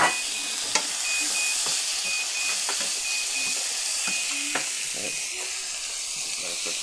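Chicken sizzles steadily in a pan as Cajun seasoning and garlic go in, a loud close hiss of frying broken by occasional clicks and scrapes of a utensil stirring.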